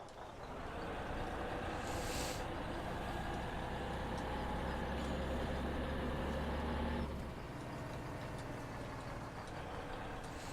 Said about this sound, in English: This Mack truck is pretty cool.